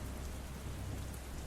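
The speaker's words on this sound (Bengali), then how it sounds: "বাইরে মুষলধারে বৃষ্টি নামছিল" Heavy rain pours steadily in a night thunderstorm, a dense continuous wash of downpour with low rumbling underneath, loud and unbroken with no voices.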